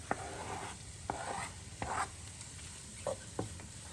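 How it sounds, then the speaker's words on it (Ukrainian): Bacon hits a frying pan of softened, golden onions, a quiet sizzle underneath with a few sharp scrapes and taps of stirring close by. "Будемо закидати бекончик наш пательню до цибульки."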